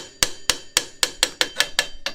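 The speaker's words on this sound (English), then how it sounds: "I like to use a metal hammer." A metal hammer strikes a part removed from a 2006 Jeep Grand Cherokee 5.7L nine times in a quick, steady rhythm, each blow a sharp, ringing metallic clank, close and loud with no talking.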